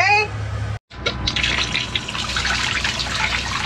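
On a boat, water from the water maker starts after a brief pause and keeps up a steady, close, splashing gush, with voices heard over it.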